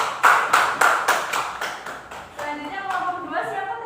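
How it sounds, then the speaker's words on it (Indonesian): A classroom applauding a student group presentation, a short burst of clapping from several people that fades as voices start talking over it. "Beri aplaus buat dia"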